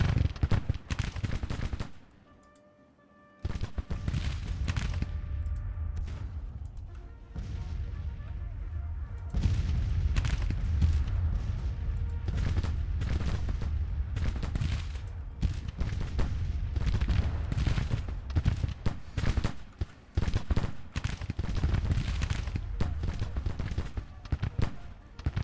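Civil War troops in the video game Grand Tactician: The Civil War fire in ragged, continuous volleys of crackling shots with heavier booms mixed in, loud and sustained after a brief quieter lull near the start.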